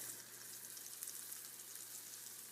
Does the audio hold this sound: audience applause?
no